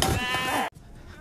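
A single sheep bleats once, close and loud, a short wavering cry that cuts off abruptly into quiet farm ambience.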